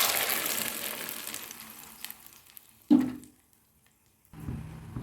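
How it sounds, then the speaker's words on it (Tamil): Ground masala paste hits hot oil tempered with mustard seeds and curry leaves for egg kulambu, giving a sharp wet splat and a brief sizzle that fades to near silence before frying noise returns. "இப்போ நம்ம அரைச்சி வச்சுருக்கிற விழுதை அதில் ஆட் பண்ணிக்கலாம்."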